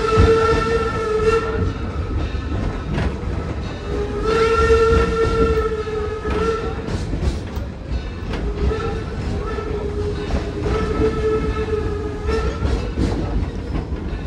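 A steam or diesel train rumbles past close by while its horn sounds repeatedly in long, steady blasts over the continuous rolling noise.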